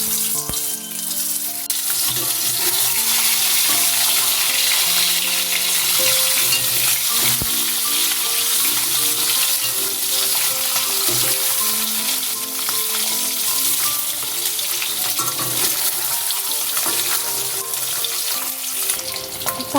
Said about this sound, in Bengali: তেল গরম হলে তেলের মধ্যে দিচ্ছি নুন, সামান্য হলুদ, সিদ্ধ করে রাখা ডিমগুলো দিয়ে ভেজে নিচ্ছি।